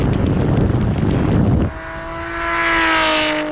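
Nissan GT-R cars accelerating in third gear from 50 mph during a rolling race: heavy wind buffeting at first, then a rising engine whine that climbs in pitch as the cars build speed.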